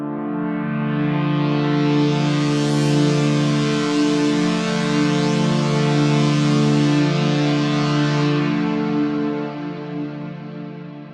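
A liquid-style synth preset in Arturia Pigments 4 holds a sustained minor chord, rich and layered with a bright shimmering top and slight echo, swelling in and then fading out near the end.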